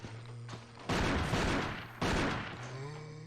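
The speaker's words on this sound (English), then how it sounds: "So he was shooting a gun while holding a camera?" Two loud bursts of rapid gunfire from a body-cam film in the Resident Evil HD video game, each lasting about a second, set against a low game hum with a tonal drone in the quiet gaps.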